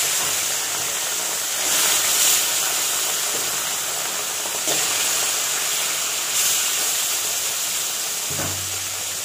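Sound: fish frying in oil

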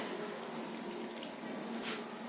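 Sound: water poured into flour and starch batter

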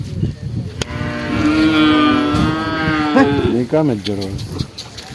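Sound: bull mooing at market

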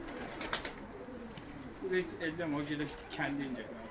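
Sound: pigeons cooing and flying overhead

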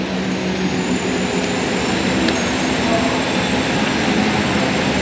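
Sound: local passenger train running, Wijayakusuma train

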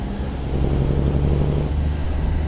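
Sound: truck engine and exhaust sound in the video game American Truck Simulator

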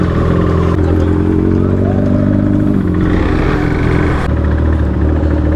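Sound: Kawasaki superbike motorcycle riding fast

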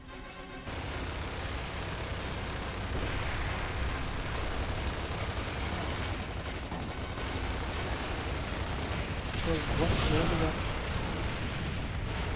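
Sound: gunfire from the video game Gears of War 2

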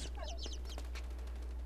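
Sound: chicks or birds in the video game Inside

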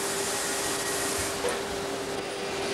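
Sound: vacuum forming machine shaping an aircraft seat part

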